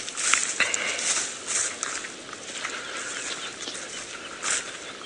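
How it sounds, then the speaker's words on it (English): Birds call and whistle faintly at dawn in the African bush during an early morning safari drive, with scattered high chirps against a quiet outdoor background. "So you can hear the birds."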